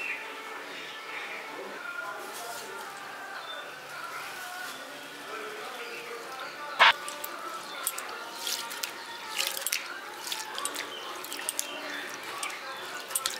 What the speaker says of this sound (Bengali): এবার চালটাকে সবার প্রথমে 2-3 বার খুব ভালো করে ধুয়ে নিতে হবে জল পাল্টে পাল্টে।